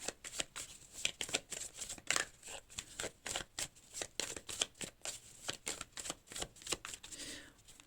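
Tarot deck being shuffled and cut, a quick run of soft riffling and slapping card sounds in irregular bursts, close but faint.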